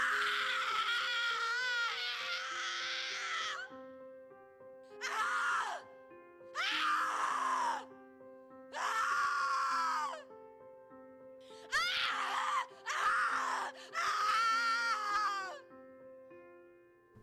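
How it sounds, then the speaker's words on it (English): Psycho Scream sound effects from freesound.org: a series of separate high, wailing screams, about seven bursts of one to three seconds each with short silent gaps between them, loud and close over a faint low tone. "And here are the screams on freesound.org."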